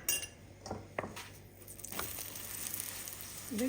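A farali aloo paratha roasts in a pan with a faint sizzle, broken by a few sharp clinks and scrapes of a utensil against the cookware, with no talking.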